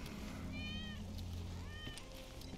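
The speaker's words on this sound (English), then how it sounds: "That's Wedge's cat." A cat meows twice in Final Fantasy VII Remake Intergrade, fairly close, with rising and falling cries over a low steady background hum; a faint click follows.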